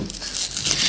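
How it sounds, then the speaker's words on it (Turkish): A rough, crackling rip of a velcro strap on an L.O.L. Surprise doll package pulling apart, close up and continuous for about a second. "Dışarıda o cırtı çok güzel açıldı"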